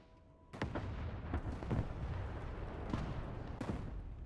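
A bomb dropped from a spy plane explodes on the ground in a video game. It lands as a sudden loud blast followed by a rumbling roar and several sharp bursts, heavy and close, with no talk.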